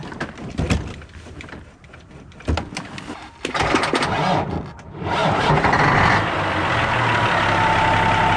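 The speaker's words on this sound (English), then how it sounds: "It's just idling." A large semi truck diesel engine clatters through a few rough revs, then settles into a steady, loud, close idle.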